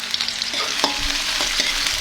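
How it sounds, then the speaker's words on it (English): Crab curry frying and being stirred in a pan at a seafood meal near Trincomalee beach, a steady close sizzle with scraping stir strokes throughout. "she's just gonna cook up the crab"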